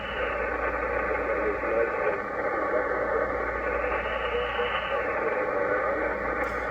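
Constant hiss from a Kenwood TS-430S ham radio receiver with a faint hum underneath, steady and unbroken, with a slight swell in the noise partway through.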